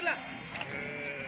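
Sheep bleat at a livestock market in Guduru, a short nasal call up close at the start followed by a steady murmur of crowd and animal noise.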